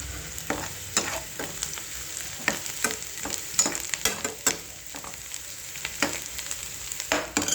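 Tomato masala of ground tomato, tamarind, salt, chilli, turmeric and oil frying in a pan over a low flame, with a steady soft sizzle and repeated scraping stir strokes close by.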